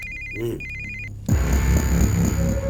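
A telephone rings in two short repeating bursts of bright electronic tone, and then a loud burst of movie-scene sound and voices cuts in over it.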